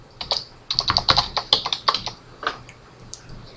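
Someone types a password on a computer keyboard in a quick, irregular burst of close, crisp key clicks with short pauses between them, then a few scattered final taps.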